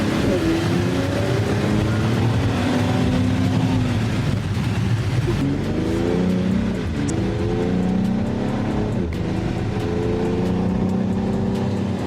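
A 2024 Mercedes-Benz AMG GLE 53 4Matic SUV drives with a steady engine drone that rises in pitch through gear changes, heard from inside the cabin with faint voices underneath.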